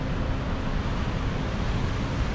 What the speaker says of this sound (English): we have made it to the first Bear Creek Fall